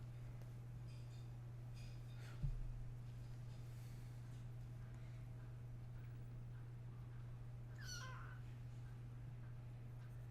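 A small cat gives a short, faint meow near the end over a steady low hum, with a brief thump earlier and otherwise quiet room background.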